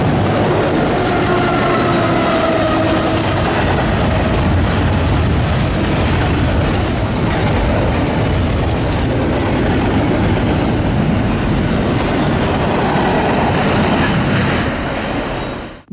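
CSX freight train rolling past on the Garrett Subdivision, with CPKC 7470, the Cancer Awareness Unit, working as the mid-train DPU locomotive; a loud, steady rumble and clatter of wagons fills the scene before cutting off at the end.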